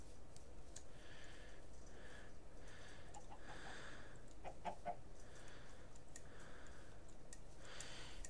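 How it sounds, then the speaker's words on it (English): Game chickens cluck in short repeated bursts within a modded Minecraft-style survival world, set against a steady ambient bed with faint ticking, no talk over them. "Oh, hello, chicken."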